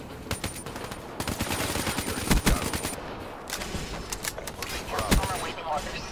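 Rapid bursts of automatic gunfire and single shots in a Call of Duty multiplayer match, loud and close, clustered in sharp volleys with brief gaps, under a player's occasional spoken reactions.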